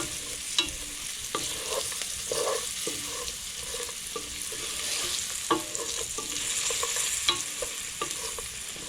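Pork chunks fry until crispy in a pan for collard greens, with a steady close sizzle and crackle and occasional stirring scrapes spaced through the clip, no talk over it.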